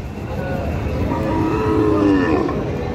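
A Sahiwal bull lows at a busy cattle market, one drawn-out moo rising and falling over about a second, close and loud above steady crowd murmur.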